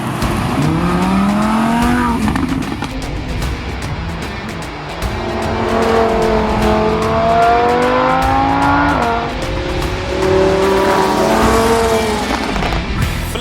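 A Lamborghini Huracan in Sport mode revs hard, its engine and louder exhaust rising and falling in long, loud, howling pulls through repeated throttle blips, close and unbroken.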